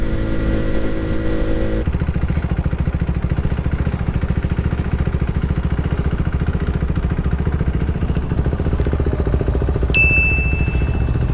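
Motorcycle fitted with a Leo Vince exhaust and intake plus a tune, its engine running steadily and close by, a continuous low rumble with a brief change early on and a sharp metallic ding near the end.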